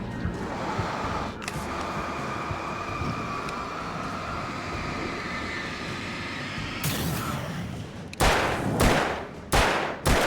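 Gunfire in the video game Alan Wake: after a long stretch of steady rumbling ambience, several loud, sharp shots crack out in quick succession at the end.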